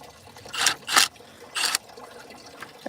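Water drains and splashes while a thermostat is changed on an old Ford, with three short gurgling gushes and faint trickling between them, close and moderately loud.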